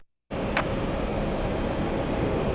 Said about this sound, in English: Today, Etihad, we have the 787 Dreamliner.